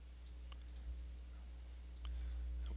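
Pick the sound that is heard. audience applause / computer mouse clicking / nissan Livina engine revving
computer mouse clicking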